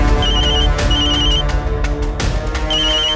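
A telephone rings with repeated bursts of electronic tones over a loud, busy backdrop of dramatic music in a TV crime drama.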